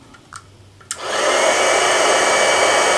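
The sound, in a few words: heat embossing tool heating sticky embossing powder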